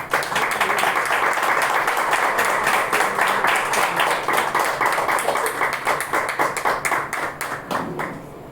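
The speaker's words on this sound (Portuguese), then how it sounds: "dê uma salva de palmas para o Espírito Santo." Church congregation applauding for the Holy Spirit during a Wednesday evening service: dense, sustained clapping from many hands filling the room, steady for most of the stretch before thinning slightly at the end.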